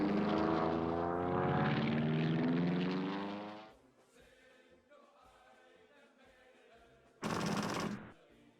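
RAF fighter aircraft engines in a Battle of Britain video game, a loud propeller drone passing close by and fading, then quiet hum before a short burst of gunfire.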